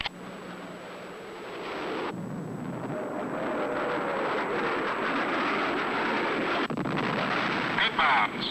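Bombs from an A-7 Corsair attack run burst on a gun pit, a sustained heavy rumbling roar of explosions with aircraft noise, loud and continuous throughout.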